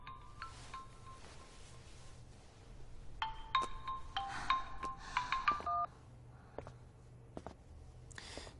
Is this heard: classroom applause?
no